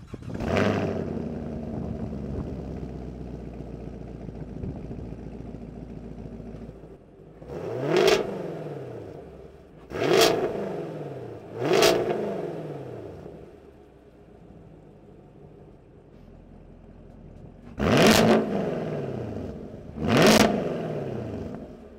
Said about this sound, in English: you have quad exhaust tips that work with your dual mode exhaust, which let's take a listen to right now.